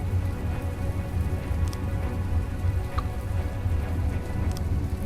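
Steady rain patters continuously inside a submarine in the From the Depths video game, a dense even hiss of drops with no voices over it.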